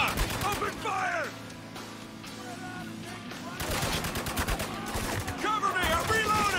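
Rapid gunfire in the shooter game Spec Ops: The Line, bursts of machine-gun rattle under shouting combat voices, with a denser volley in the second half.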